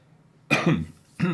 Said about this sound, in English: That's why I'm sniffly and coughing every once in a while.